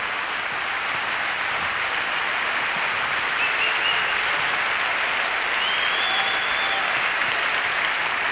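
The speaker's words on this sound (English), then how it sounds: "So clap your hands to receive the person who has changed the world." Sustained audience applause at a web technology conference plenary session in Bilbao, a steady dense wash of clapping from a large hall crowd that continues without pause.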